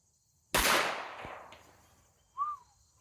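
A single sharp crack from a Rossi 65 .38 Special revolver fired outdoors, ringing out with a decaying echo and followed by a faint short tone.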